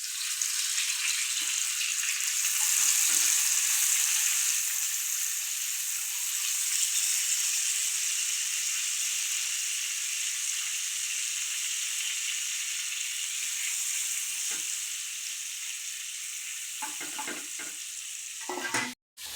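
Seppili fish frying in hot oil in an appam pan, a steady bright sizzle that holds loud and continuous throughout, fading slightly near the end with a few soft clinks.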